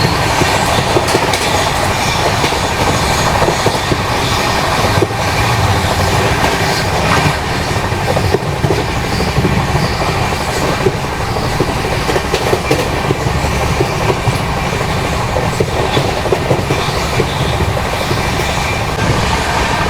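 The Chennai–Trivandrum AC Express rushes along at about 130 km/h, a steady dense roar with rhythmic clatter of wheels on rails throughout, loud and close from inside.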